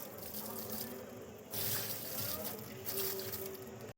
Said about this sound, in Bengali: এবার একটু করে জল দিয়ে দিচ্ছি